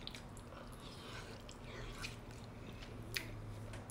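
Close, soft chewing of fatty chicken, with wet, squishy bites and a few sharper crunches over a steady low background. No one speaks.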